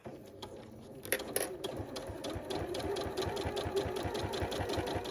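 A sewing machine stitches quilt binding with a rapid, even mechanical chatter. It starts with a few brief stops, then settles into a continuous close run with no voices.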